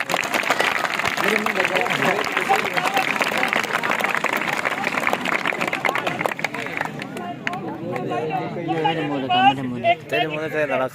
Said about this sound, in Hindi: बंद करने के बाद आपकी तालियां बनेगी जोर से